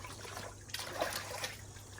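Water trickles and splashes into a rusty cast iron Dutch oven (potjie) being washed out, a steady close-up stream with small splashy surges and no talk.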